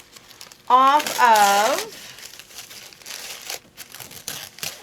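Tape peeled away from water-soluble stabilizer on an embroidered appliqué tea towel: a brief spoken phrase gives way to soft, uneven crinkling and tearing crackles that continue quietly to the end.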